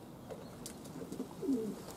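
Pet racing pigeons returning from a morning flight coo softly in a few low, muffled bursts, with quiet outdoor ambience around them.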